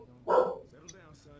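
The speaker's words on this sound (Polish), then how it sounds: "Musiałem psa uciszyć" A dog barks once, loud and close indoors, in a short sharp burst that fades into quieter room noise.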